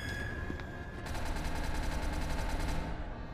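Gunfire in the SL Mimicry video game: a rapid, evenly spaced automatic burst rattles loudly for about two seconds over a constant dense background din.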